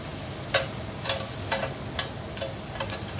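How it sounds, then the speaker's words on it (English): Shrimp sizzle steadily in a pan as they are turned, with a constant frying hiss and several short clinks from the utensil at regular intervals. "I'm going to turn my shrimp one more time just to make sure that that's cooked throughout."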